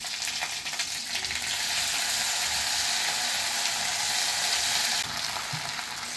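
Curry leaves and tempering splutter in hot oil alongside idli, a loud, steady, close-up sizzle with fine crackling pops running throughout, and no voices.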